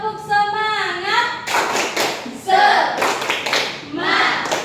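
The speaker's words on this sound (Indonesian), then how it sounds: "Kita tepuk semangat dulu. Tepuk semangat." Schoolchildren in a classroom do a rhythmic clapping game, sharp bursts of claps in a patterned beat mixed with their chanted and sung voices, close and lively.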